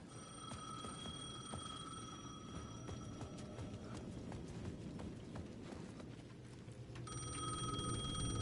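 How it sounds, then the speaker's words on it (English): A payphone ringing in the game Alan Wake 2, with steady tonal electronic rings over a dense rhythmic clatter of footsteps in the background, the ringing pausing midway and returning louder near the end. "The payphone at the edge of the plaza was ringing again."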